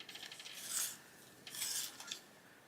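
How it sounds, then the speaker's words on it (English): A colouring pencil is sharpened in two quiet, scratchy bursts of blade shaving wood, each a short grinding twist, with near silence between them. "Again, I need to sharpen."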